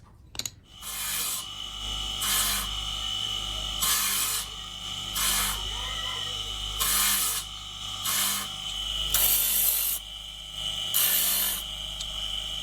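Brake pads being scuffed by hand in a workshop in Pakistan, a rhythmic rasping rub in about eight regular strokes, each a short gritty scrape with brief pauses between, close and clear.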